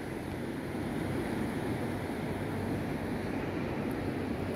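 Steady wash of sea waves at a beach resort, a continuous broad surf roar mixed with wind buffeting the microphone, no voices.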